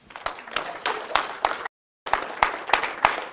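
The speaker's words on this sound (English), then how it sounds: "let's give Him a hand clap of praise this morning." A church congregation claps hands in praise during a morning service, a steady dense round of applause with a brief cut in the middle.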